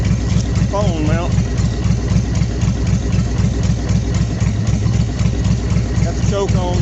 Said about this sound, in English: it idling, it's vibrating the phone mount